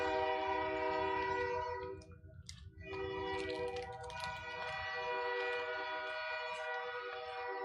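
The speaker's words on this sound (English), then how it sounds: "train's coming through" A train rumbling past with a long, sustained horn blast throughout, briefly dipping before sounding again, the heavy low rolling of rail cars continuous beneath it, heard loud and near from indoors.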